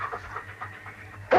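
King, a dog out in the Yukon, pants quietly in soft rhythmic breaths close by, ending in a brief louder burst.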